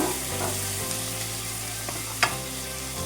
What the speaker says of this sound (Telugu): ఇదిగోండి టమాటా ముక్కలు వేస్తున్నాను